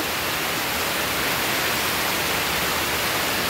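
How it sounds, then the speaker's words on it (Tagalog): Heavy outdoor rain, growing stronger, falls as a dense, constant hissing roar with no pauses or voices. "sagsag na naman ng ulan. O, tingnan mo, lalong lumakas."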